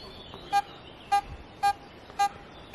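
A Vista X metal detector sounds four evenly spaced short beeps, each about half a second apart, over a faint outdoor background with no talk.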